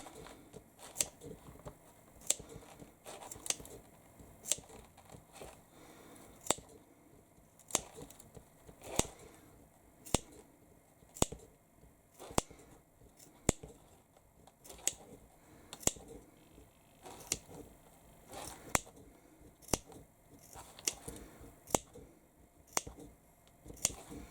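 Sharp scissors snip through fabric beside a sewn seam while a bag is made, each crisp cut landing in a steady, repeated rhythm of close, isolated clicks with quiet gaps between them and no talking.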